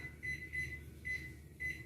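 A kitchen timer being set gives four short, faint, evenly spaced electronic beeps over a quiet kitchen background, with nobody talking.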